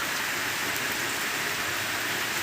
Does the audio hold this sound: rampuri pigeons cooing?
no